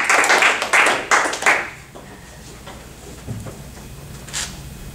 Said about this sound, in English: another round of applause for Bobby.